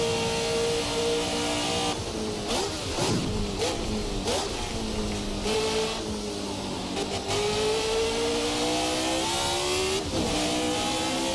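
A Formula 1970 V8 race car engine in a racing sim roars at high revs around the Nürburgring, pitch rising and dipping through gear changes with brief bumps and clatters; a commentator talks over it.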